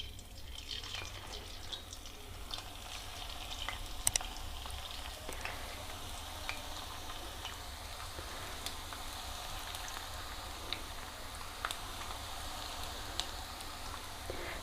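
A rice flour and potato dough mixture fries in hot oil in a pan, giving a faint, steady sizzle with scattered small pops and crackles throughout and no talk.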